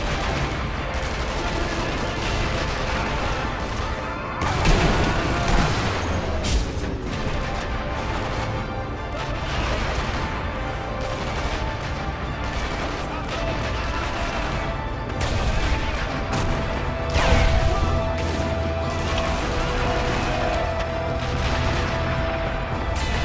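Gunfire rattles through a battle in the video game Sniper Elite V2, with dense overlapping shots and bursts, heavier blasts around five and seventeen seconds, and continuous mechanical din.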